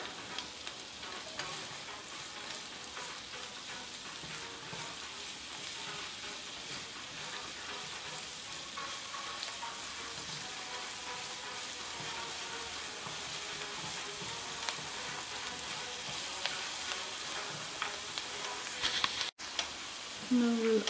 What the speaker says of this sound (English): we need to saute the garlic until light brown